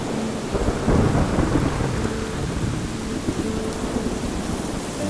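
Heavy rain pours steadily while a thunderstorm rumbles low and close, with the thunder swelling around the one-second mark and the downpour continuing loud throughout.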